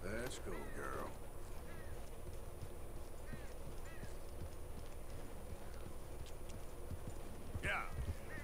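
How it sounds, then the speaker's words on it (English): Horse hooves clip-clop steadily in Red Dead Redemption 2, with a voice talking over them and a brief whinny-like cry near the end. "Oh, there's my horse."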